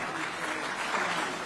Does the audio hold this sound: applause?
yes